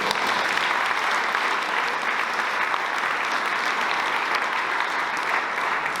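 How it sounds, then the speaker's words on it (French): Sustained, even applause from a large audience honouring mayors of small communes at an awards ceremony, a continuous dense roar of clapping with no talk over it. "Je vous demande de les applaudir très très fort."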